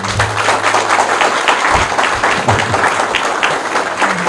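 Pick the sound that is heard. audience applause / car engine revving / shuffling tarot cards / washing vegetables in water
audience applause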